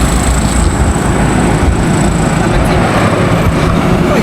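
A motor tricycle engine drones loud and steady while riding in Lobo, Batangas, a constant rough rumble mixed with road and wind noise.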